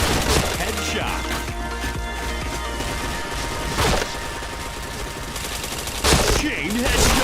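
Dense, rapid gunfire from a video game shooter, loud and continuous, with rattling bursts and sharper single shots standing out now and then. Game voice announcements and players' chatter play over the top.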